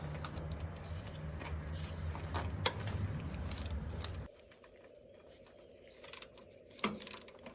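Metallic ratcheting and clicking from a wrench loosening the two bolts holding the inlet pipe on top of a Kubota diesel tractor's hydraulic pump, close and moderately loud, then stopping into a quiet workshop with a few faint knocks.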